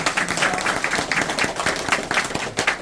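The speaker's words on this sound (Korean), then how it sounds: "큰 박수 부탁드리겠습니다" A crowd at a political campaign meeting gives a loud, dense round of applause, a steady roar of many hands clapping close by that carries unbroken for nearly three seconds.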